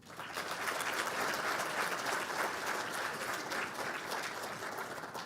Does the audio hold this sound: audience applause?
yes